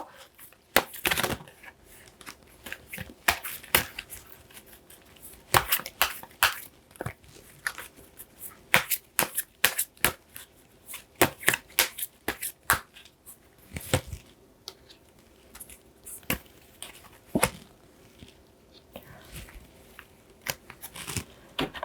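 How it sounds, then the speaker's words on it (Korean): Tarot cards being shuffled and handled, a long run of crisp, irregular riffles, taps and slaps, close and fairly loud, with quiet gaps between bursts. "우리 4번 분들께 어떤 조언을 해드릴 수 있을지 카드를 한번 뽑아보도록 할게요"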